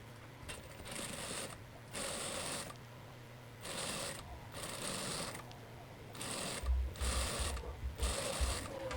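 A sewing machine stitches a simple double-folded hem on an Oxford pleated skirt, running in steady mechanical bursts of a couple of seconds separated by brief pauses, close and moderately loud.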